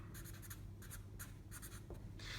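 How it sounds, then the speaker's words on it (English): A pen scratches out a maths working on paper in short, close bursts of quiet strokes with small gaps between them, and no voice is heard. "I'm just going to write completing square"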